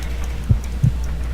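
Heartbeat from a Sherlock Holmes mystery video game, two low, soft thuds about a third of a second apart over a steady low hum, with no voices.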